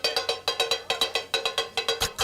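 Knives chop ginger, garlic, onion, chili and bell pepper on a wide steel griddle, giving fast, sharp, ringing metallic clacks in a quick, even rhythm, loud and close, with no voices.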